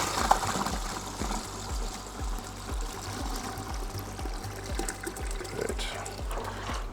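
Water pours steadily into a hard cider brewing vessel, topping up a Mangrove Jack's cider kit toward about 21 liters, a continuous close splashing flow with a rhythmic pumping pulse underneath and a voice faintly in the background.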